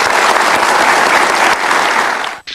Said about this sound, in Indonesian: boleh dikasih tepuk tangan untuk dua tokoh ini.